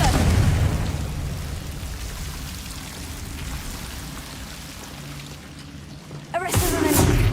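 A Confringo fire-blast spell in Hogwarts Legacy, with a steady rumbling roar of magical combat that breaks into a sharp, loud crackling burst near the end.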